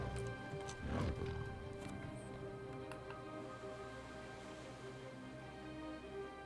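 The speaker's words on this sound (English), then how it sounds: "It's one of the only horse mounts that you can use as Horde" Horse mount hooves in World of Warcraft clip-clop faintly over a steady bed of game music and tones, with a louder scuffing burst near the start and soft, irregular footfalls afterward.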